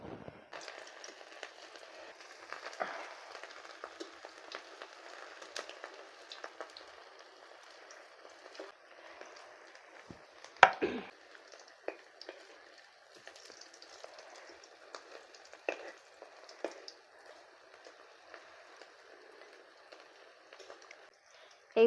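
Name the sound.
fish-shaped pieces frying in hot oil in a wok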